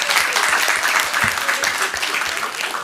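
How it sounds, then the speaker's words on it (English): An audience at a city council meeting claps hands together in steady, dense applause that runs the whole time. It sounds close and loud, with no talking over it. "Clap your hands."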